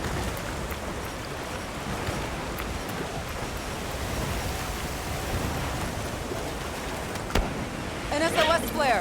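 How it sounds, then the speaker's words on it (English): Heavy rain downpour in Monster Hunter Wilds, a steady dense hiss that fills the whole stretch at even loudness, with a brief voice-like flutter near the end. "A downpour like this could have an effect on the monsters."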